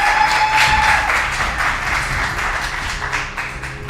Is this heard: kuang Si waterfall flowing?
no